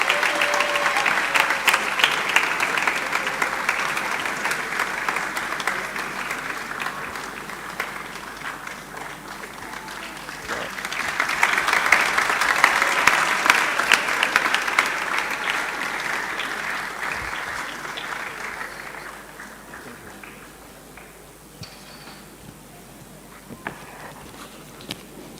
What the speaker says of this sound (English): Thank you very much for the warm applause.